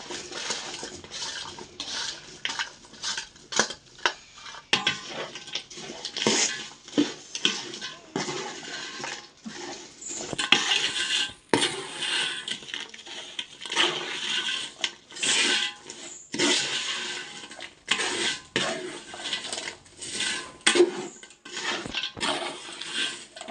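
A spoon repeatedly scrapes and clinks against a metal pot while stirring thick sardine pickle, in irregular bursts throughout, close and fairly loud.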